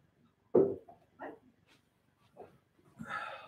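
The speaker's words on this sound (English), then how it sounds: "The dog wanted to get out." A dog barks once loudly up close, followed by a few softer whines and yips, then a brighter, scratchy burst near the end in an otherwise quiet room.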